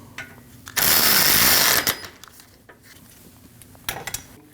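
Ratchet or power tool tightening a bolt on a 2012-2016 Honda CR-V 2.4L AC condenser line, one loud whirring burst of about a second, followed by faint clicks and a short clank.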